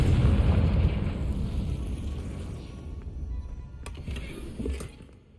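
A Confringo fire spell explodes in Hogwarts Legacy with a heavy, rumbling boom that slowly fades, followed by a few lighter crackling pops toward the end.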